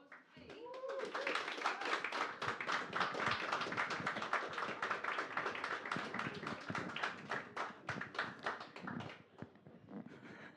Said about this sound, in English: Please, everybody give a massive round of applause